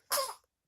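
A single short, breathy burst like a sneeze, sharp at onset and fading quickly into silence.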